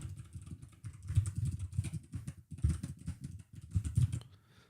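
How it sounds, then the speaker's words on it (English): Rapid, uneven typing on a computer keyboard while writing Rust code, close and fairly loud, with bursts of keystrokes and brief pauses throughout. "I'm clearly struggling to type, right?"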